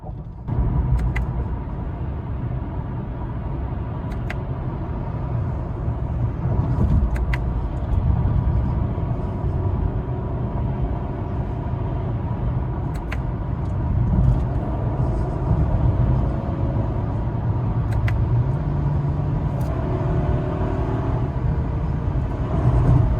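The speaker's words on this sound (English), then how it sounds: "as you saw from those clips, that the downshifting is very easy to do, and it makes the Camry very fun to drive" A Toyota Camry driven with paddle-shifter downshifts gives a steady, fairly loud engine and road drone inside the cabin, with a few faint clicks scattered through it and no voices.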